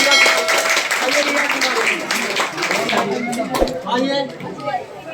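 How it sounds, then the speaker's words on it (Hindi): A studio audience claps and cheers to welcome quiz contestant Riya Kumari on a KBC-style education game show; the steady, lively applause runs under a host's loud talk throughout. "जोरदार ताली स्वागत कीजिए रिया"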